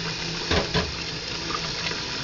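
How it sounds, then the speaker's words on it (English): Water pours steadily into a container of basmati rice infested with weevils, a continuous running-water wash with a couple of brief splashy surges near the start, close and fairly quiet. "keep adding water"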